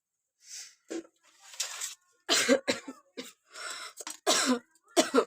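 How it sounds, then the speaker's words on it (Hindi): Repeated harsh coughing in short bursts, close and fairly loud, with a couple of throat-clearing sounds between fits. "खांसी आ रही है, बहुत ज़्यादा खांसी आ रही है"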